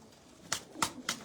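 Three short, close pulses from a Lakha pigeon cooing, evenly spaced over a quiet background with no talking.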